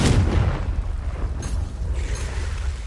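A Confringo explosion spell going off in the game Hogwarts Legacy, a heavy low boom at the start that rolls into a long rumbling tail with crackling bursts, no voices.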